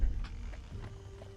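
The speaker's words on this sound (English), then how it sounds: "you can ride a horse and all that?" Horse hooves clip-clopping in the video game Assassin's Creed Shadows, several soft irregular hoof strikes at a walking pace over a low background rumble, no voices.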